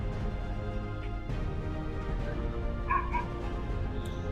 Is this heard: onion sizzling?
no